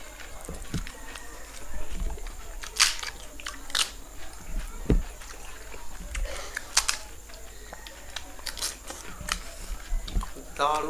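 Someone eats spicy watery fuchka (panipuri) in a rapid eating challenge, with scattered sharp crunches and bites standing out over quiet background.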